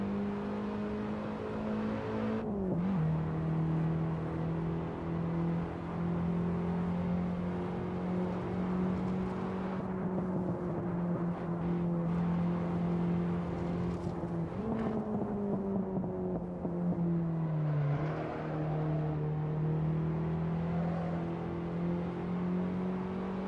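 BMW 325 E30 Touring engine revving on the Nordschleife, a steady droning inline engine note heard from the cabin, pitch climbing and dropping with gear changes over about twenty seconds, fairly quiet with no talk.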